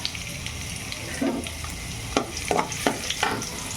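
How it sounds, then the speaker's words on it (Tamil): Chopped garlic sizzles in hot oil in a pan while being stirred for veg noodles, a steady close frying hiss with a few scraping stir strokes and clinks toward the end. "பூண்டு ஒரு 5 பல்லு பூண்டு வந்து குட்டியாக சாப் பண்ணி வச்சுட்டு பூண்டு கூட தாளிச்சிடுங்க."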